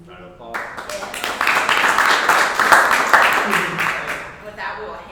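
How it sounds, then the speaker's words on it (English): An audience at a professional training seminar applauds steadily for several seconds, dense clapping swelling and then tapering off, with some voices mixed in. "Round of applause."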